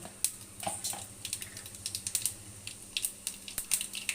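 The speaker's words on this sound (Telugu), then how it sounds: "ఆవాలు చిట్టపెట్టలాడుతున్నాయి" Mustard seeds spluttering in hot oil for a South Indian tempering, a run of sharp, irregular pops and crackles over a steady low hum, fairly close and without talk.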